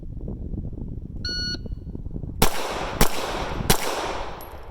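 Three loud gunshots crack in quick succession at an outdoor shooting range in Dundee, Oregon, preceded by a short electronic shot-timer beep over steady background rumble.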